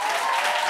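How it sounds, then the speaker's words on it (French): An audience at a tontine savings-group meeting breaks into dense applause, a brief loud wash of many hands clapping. "applaudissez"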